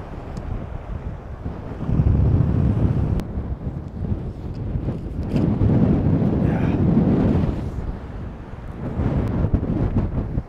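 Strong gusty wind buffets the microphone on a boat while fishing off Fremantle after a storm, heavy low rumbling surges rising and falling in waves, with faint water noise underneath.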